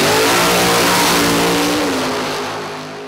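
A 1,200 horsepower nitrous drag race car engine revs loudly and close, holding a steady high roar for a few seconds before the sound fades out.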